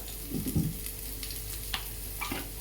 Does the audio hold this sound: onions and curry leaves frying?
yes